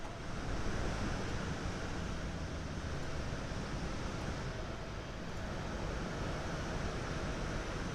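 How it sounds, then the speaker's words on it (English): Loud, steady wind rush roars across a Boeing 737 MAX 8 cockpit in Microsoft Flight Simulator, a broad unbroken hiss like surf that sounds on its own throughout. "That wind noise is ridiculous."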